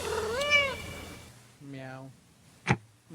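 Two drawn-out, rising-and-falling meows, a short gap between them, during a podcast's closing segment. Each is likely a human voice imitating a cat, over quiet background, with a brief sharp noise near the end.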